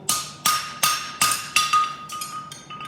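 A farrier's hammer strikes a horseshoe clip to level it, using the round side of the head: about eight sharp, ringing metallic taps at a steady beat, close and loud, growing lighter toward the end.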